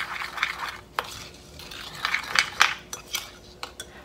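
Seaweed salad with sesame seeds is stirred in a bowl: a series of light, irregular clinks and scrapes of utensils against the dish, close and fairly quiet.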